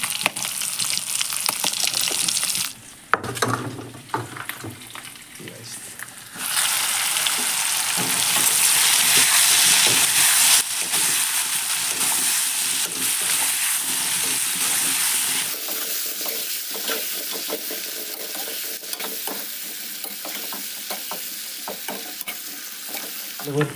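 Pork frying in oil with turmeric, a loud close sizzle that swells into an intense hiss midway before settling to a steadier crackle, with stirring and scraping throughout and no talking.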